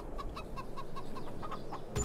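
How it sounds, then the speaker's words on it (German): Chickens in the Farming Simulator 22 game make a steady run of short, repeated clucks at moderate volume, with no talk over them. "Die Hühner sind total begeistert davon."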